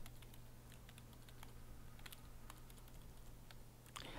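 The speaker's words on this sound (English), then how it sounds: "Oh, it's a keyboard." Rapid keyboard typing from the visual novel Everlasting Summer, a steady run of light clicks heard alone, close and fairly soft over a constant low hum.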